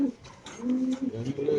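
Pigeons in a cage, including a black Beauty pigeon, give soft low cooing under nearby conversation in a busy market setting.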